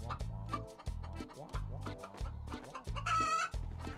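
A chicken clucks repeatedly in short rhythmic bursts, close and fairly loud, with a brief squawking rise near the end and some faint voices in the background.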